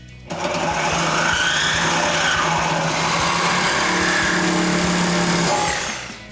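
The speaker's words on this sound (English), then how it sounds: "you can grab yourself a Sawzall or your cutting apparatus of choice" A loud, steady buzzing reciprocating saw cuts through a car exhaust pipe continuously for about six seconds, a harsh mechanical whine with rattling metallic overtones, then winds down.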